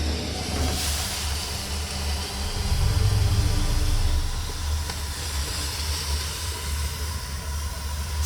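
Steam hisses steadily throughout as a broad, constant rush, with a deeper rumbling surge partway through, like steam venting from a machine, and no voices.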